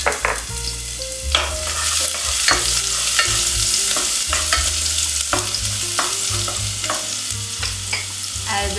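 Fresh garlic fries in hot oil in a pan with a loud, steady sizzle, punctuated by repeated stirring scrapes and utensil taps, close up with no talking.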